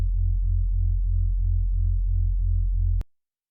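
A low Reese-style synthesized bass tone pulses in a steady, fast wobble for about three seconds, then cuts off abruptly with a click.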